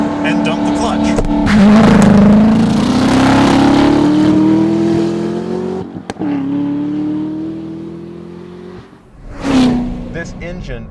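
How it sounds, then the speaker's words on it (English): Corvette ZR1 doing a launch-control start, engine revving hard with a rising pitch through first gear, a sharp shift break, then climbing again and a second surge; loud and close, with a voice talking over parts of it. "We're going to try launch control on a Corvette ZR1."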